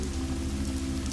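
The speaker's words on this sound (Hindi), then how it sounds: "हल्की बारिश अब भी पड़ रही थी।" Light rain falls steadily in a dense, even hiss of pattering drops over a low hum, with no voices.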